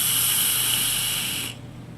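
A steady airy hiss from drawing on a Vapeam Muse RDA vape with the airflow closed down to two holes, close and continuous, cutting off near the end.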